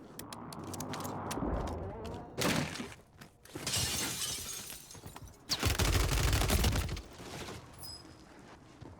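Bursts of automatic gunfire in Warzone 3 from a RAM-7 rifle, several loud rapid volleys with sharp shattering cracks, spread across the clip between short pauses.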